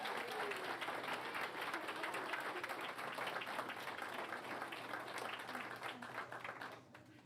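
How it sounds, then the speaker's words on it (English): A school board meeting audience breaks into sustained applause, many hands clapping in a dense, steady wash that carries on for several seconds and tapers off near the end. "Can we all give a big round of applause"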